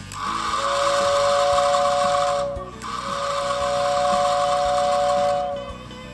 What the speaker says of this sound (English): This engine actually comes with a whistle tender.